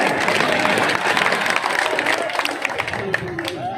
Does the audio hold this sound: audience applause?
yes